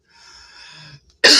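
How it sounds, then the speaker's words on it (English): A single sharp cough bursts out at the end, preceded by a quiet tonal hum and soft breathy sounds. "Why am I coughing?"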